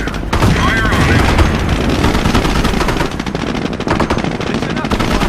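Machine gun fire rattles in dense, sustained bursts through a World War II Company of Heroes battle, mixed with heavy gunfire and explosions from start to finish, with voices faintly underneath.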